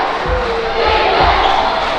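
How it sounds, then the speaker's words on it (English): Gym crowd at a high school girls' basketball game roaring in the final minute of a close contest, loud and sustained, with dull ball bounces thumping on the court underneath. "The crowd is into it."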